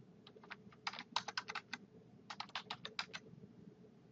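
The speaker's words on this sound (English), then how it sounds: "Type a subject for your announcement." Typing on a computer keyboard, two quick bursts of light key clicks separated by a short pause, close and quiet in a still room, with no talking.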